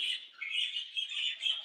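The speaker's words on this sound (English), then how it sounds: "I'll let the birds say goodbye real quick" Pet parrots chirp and tweet close by in a quick run of bright, high calls, with short pauses between bursts.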